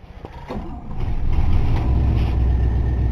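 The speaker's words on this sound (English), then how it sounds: "Rev her up a little bit, keep her running." A 1960 Dodge Dart engine, cold and not run for a while, idles with a steady low rumble that swells after the first second and holds close and loud.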